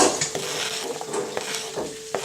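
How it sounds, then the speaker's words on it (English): Onions frying in generously melted butter for a nut roast, a close, steady sizzle broken by several sharp scrapes and knocks of a utensil stirring against the pan, no talking. "my onions are coming along nicely here. You've got good sizzle on them."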